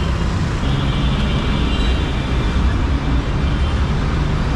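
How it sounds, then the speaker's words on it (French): Sports cars and other vehicles roll through busy street traffic, producing a dense, continuous roar of engines and tyres that stays loud and steady throughout with no clear breaks. "J'ai l'impression que c'est des voitures de sport."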